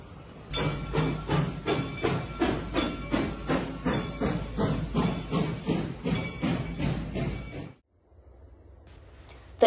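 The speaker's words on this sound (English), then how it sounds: "we caught the Reading and Northern 425's fall excursions" Reading and Northern 425 excursion train on a fall run between Tamaqua and Jim Thorpe, giving loud, evenly spaced chuffs over a steady hiss, about sixteen beats, then cutting off abruptly into near quiet.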